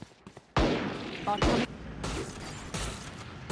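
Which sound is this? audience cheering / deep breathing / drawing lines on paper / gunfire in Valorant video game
gunfire in Valorant video game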